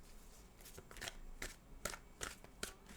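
Tarot cards are shuffled in a series of crisp, rapid riffling bursts, about six close, distinct flutters in a quick rhythm, with no voices over them.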